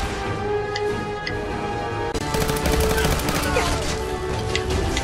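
Rapid gunfire from a hardened 10mm auto pistol in the video game Fallout 4, a dense burst of loud repeated shots starting partway through over steady game sound.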